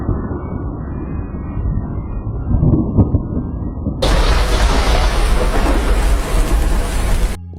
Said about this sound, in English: Lightning strikes, the yard catches fire.